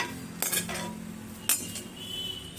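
Greens being stir-fried in a pan for a healthy powder recipe, with a metal spoon scraping and clinking against the pan in two brief bursts over a soft background of frying.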